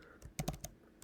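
Clicky computer keyboard typing, a brief burst of about five or six uneven keystrokes, close and fairly quiet, with no voice over it.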